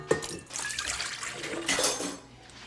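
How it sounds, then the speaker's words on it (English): Warm milk and water poured from a cup into a mixing bowl for hamburger bun dough, a short liquid splash and trickle close by, with brief kitchen noise around it. "And Zach, you can dump it in our mixing bowl if you want."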